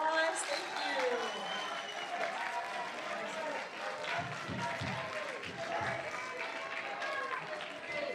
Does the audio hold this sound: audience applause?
yes